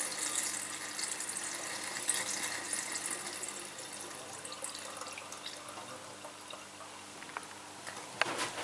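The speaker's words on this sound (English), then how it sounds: "I shall top it up with a bit of distilled water" Distilled water pours steadily into a demijohn of blackberry wine for several seconds, a continuous splashing trickle with a few small drips near the end, fairly close and moderate.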